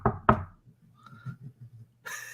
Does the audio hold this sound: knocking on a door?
yes